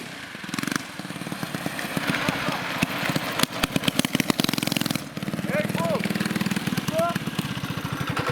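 A trike's engine runs close by, revving in rough pulsing bursts with a brief drop around the middle, while voices talk over it.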